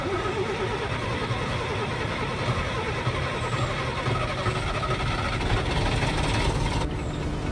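The Hungarian Ikarus 260 bus in Bus Driver Simulator 2019 idles after starting, its diesel engine giving a steady, loud, rumbling drone with a rough low throb that stays even throughout, with no talk over it.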